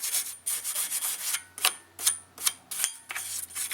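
Rust is scrubbed off the edge of a wheel hub on a 2004 Volkswagen Jetta TDI where the brake rotor was stuck, with rhythmic, close rasping strokes repeating about twice a second.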